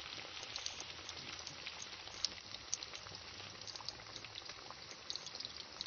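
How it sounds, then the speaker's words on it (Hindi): Fish frying in hot oil in a pan, a steady soft crackle and sizzle with scattered pops, fairly quiet and continuous with no talking. "आज मेरा छोटा भाई है ये फ़िश फ्राई कर रहा है"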